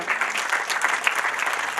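Crowd at a Rwandan wedding celebration clapping steadily, a dense, continuous applause of many hands that carries on through the whole short stretch without any voices standing out.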